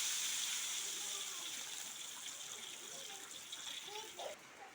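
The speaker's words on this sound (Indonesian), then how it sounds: "kita masukkan airnya bunda" Water poured into a pan of fragrant browned ingredients for village-style meatball soup, a soft continuous splashing gush, faint and steady under quiet room background.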